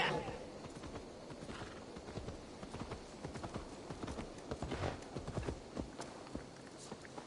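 Horse hooves clop at a steady walking pace in the video game Assassin's Creed Valhalla, close and fairly quiet, with a soft rhythmic clatter over faint background sound.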